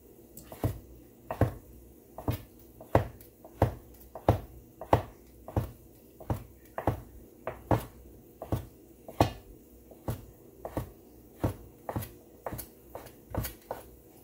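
A knife chops noodles and other food on a board in a home kitchen, around twenty crisp, close strikes in a steady, unhurried rhythm over faint background hum, with no talking.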